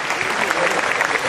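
An audience at a Hindi poetry recital applauds, a brief, dense burst of crowd clapping lasting just over a second.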